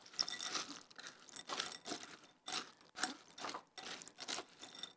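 Dry, crunchy roasted chickpeas tossed in a bowl with a honey coating, making bursts of close rattling crunches in an irregular rhythm with short pauses.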